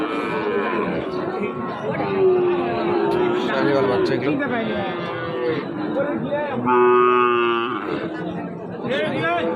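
Cattle mooing loudly at the busy Raniganj cattle market, several long drawn-out calls rising over a constant crowd chatter and bargaining voices.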